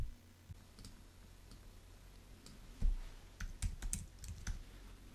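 Mouse clicks while working in macOS Keychain Access, a scattering of crisp, close clicks that come irregularly and grow denser toward the end, set against a quiet room with no one talking.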